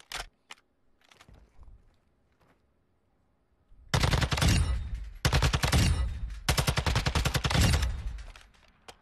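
Automatic gunfire from a weapon in Warzone 2 rattles in rapid bursts after a few seconds of near silence, loud and close, with several sustained strings of shots separated by short gaps.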